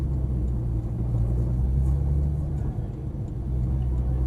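A Porsche 911 GT3 of the 991 generation runs on a race track, its engine a steady, heavy low rumble that fills the whole stretch without easing, heard from close by with no talking.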